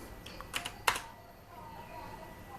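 Someone taps out a few quick keystrokes on a computer keyboard, a short cluster of sharp close clicks followed by quiet, with speech around the typing.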